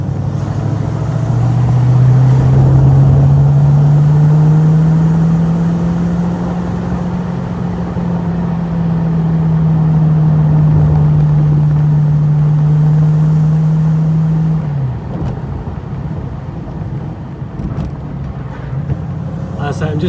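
A TVR Chimaera's engine drones steadily while the car drives on an open road, a loud low hum holding one pitch with slight rises before easing off near the end.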